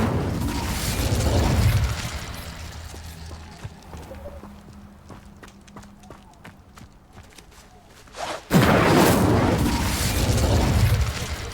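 In Hogwarts Legacy, the Incendio fire spell goes off in two loud whooshing bursts, one at the opening and one near the end, with quieter footsteps and game sounds between them.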